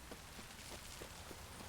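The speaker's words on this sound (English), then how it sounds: "This downpour's a bastard." Steady, hissing heavy rain in the video game The Witcher 3, with soft, regularly spaced pattering thumps, fairly quiet and with no voices.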